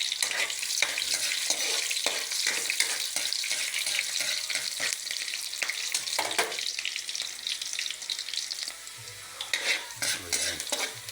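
Green beans (bitwelas) being sautéed in a pan, with a steady sizzle and frequent scrapes and clinks of a utensil stirring against the metal.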